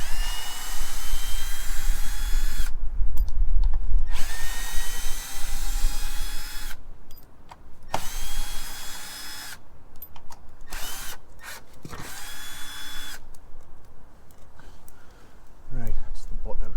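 A power drill whines in repeated bursts while backing flat slotted screws out of the bottom hinge of a storm-damaged fence gate, the motor rising and stopping between pauses, with someone talking in between.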